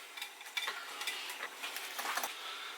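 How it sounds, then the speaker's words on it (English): Yorkshire pudding batter of milk, salt and flour being whisked in a bowl, a steady close rhythm of quick scraping strokes and light utensil clatter with no talking. "we mix that into a smooth batter"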